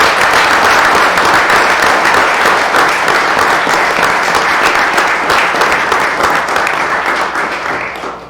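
A town board meeting audience gives a round of applause for two standing high school wrestlers: loud, full clapping from a packed room, continuous for about eight seconds and easing slightly toward the end.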